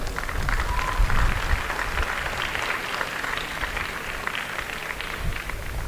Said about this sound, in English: I would ask you to give them both a round of applause.